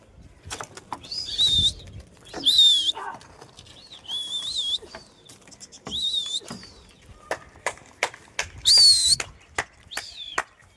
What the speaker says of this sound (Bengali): 6টি পায়রা আবার ছাড়া হচ্ছে।